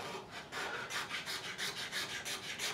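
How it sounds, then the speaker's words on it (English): A scraper worked along the fingerboard of a Tanglewood TW115 acoustic guitar during a setup: steady rhythmic rasping strokes, about two per second, close and fairly quiet, with no voices. "So I'm going to scrape the whole fingerboard"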